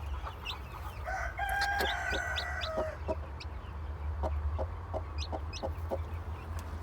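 Newly hatched chicks chirp and call in short bursts over a steady low hum, with a brief clucking phrase from the hen early on; no voices.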